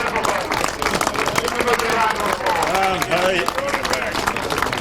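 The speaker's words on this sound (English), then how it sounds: "Give him a big round of applause." A crowd applauds a sidecar racer at a 2003 European sidecar semi-final meeting, dense sustained clapping mixed with cheering and crowd babble, with a voice speaking over it.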